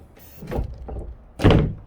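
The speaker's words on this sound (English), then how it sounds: "simple, open the door and close the door. It'll lock out by itself." A door fitted with a HOOWISER fingerprint lock opening and then shutting, with a softer handling sound early on and a louder closing thunk about halfway through, close by and alone.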